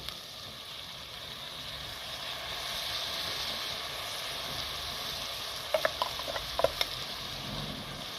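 Four medium tomatoes hitting hot oil in a pan with softened vegetables for a cluster bean curry, giving a steady broad sizzle with a few sharp crackles and pops near the end.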